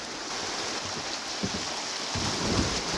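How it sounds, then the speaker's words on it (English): White water rapids on Antietam Creek rush in a broad continuous roar close by, swelling louder toward the end as a boat runs through. "A lot of white water."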